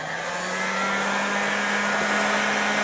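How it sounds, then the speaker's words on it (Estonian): A hot air gun blows steadily on an Nvidia AGP 256 MB graphics card, giving a loud, constant rushing hiss with an underlying motor hum that stays close and unchanging throughout. "föönitame kuumaõhufööniga AGP kaarti 256 mega, Nvidia"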